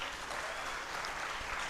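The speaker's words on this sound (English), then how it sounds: "Please, ladies, clap for yourselves." Women in the audience at a TV season finale applaud themselves, producing a steady, even wash of distant crowd clapping with no voices on top.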